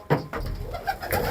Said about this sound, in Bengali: দেখাচ্ছি আপনাদের কবুতর